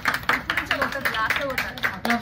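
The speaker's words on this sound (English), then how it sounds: "Claps, claps." People clap their hands in a small group, with distinct, fairly rhythmic claps coming in quick bursts close by, while a voice speaks over them.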